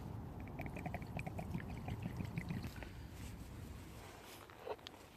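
Water is poured into a camp cooking pot of stock made with Oxo cubes at an outdoor bushcraft campsite; a steady, close trickling pour runs for several seconds, with faint clinks and rustles around it.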